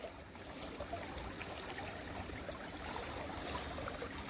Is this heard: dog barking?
no